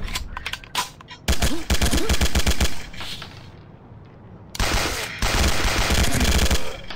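Automatic gunfire in the tactical shooter game Sierra 7, with a short scatter of shots followed by two long, loud rapid bursts separated by a quieter pause.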